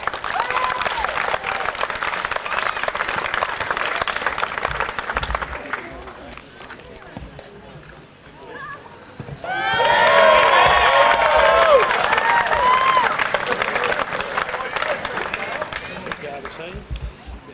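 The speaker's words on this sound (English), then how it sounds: "Round of applause, please, ladies and gentlemen." Crowd at the 1995 football Grand Final between the Central Coast Swans and Brooklyn Tigers claps and cheers, loud and dense, with whistles cutting through; the roar dips briefly before swelling back even stronger and holding steady.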